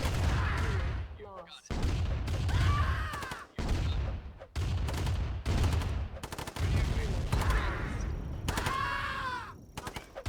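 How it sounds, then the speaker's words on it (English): Infantry and vehicle units in Command and Conquer Remastered trading gunfire in a chaotic skirmish, loud repeated bursts of rapid shots and booms in dense clusters, broken by brief pauses and scattered screams. "Just gonna make everyone shoot at each other."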